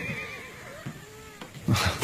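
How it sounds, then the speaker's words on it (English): Horses whinny and neigh in a high, wavering call, followed by snorts and thumps near the end in a colonial-era setting. "The horses are out of control."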